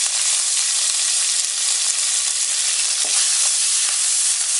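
Lentils, green and dried red chilies, curry leaves and ginger sizzle in hot oil as a tempering, a loud, dense, continuous crackle with faint stirring ticks and no talk.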